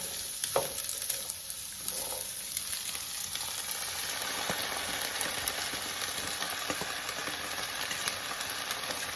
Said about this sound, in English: I'm just gonna let that fry for about 5 minutes or so.